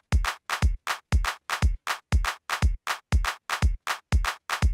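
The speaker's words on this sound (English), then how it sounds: "Let me just put a kick drum in so that we have some point of reference." Shifted 3-in-8 rhythm of sharp, punchy kick drum hits, roughly evenly spaced but with off-beat groupings, loud and alone throughout.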